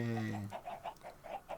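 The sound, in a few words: chicken clucking in Minecraft video game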